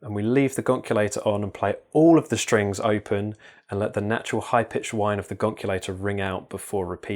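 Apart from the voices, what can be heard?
No everyday noises stand out.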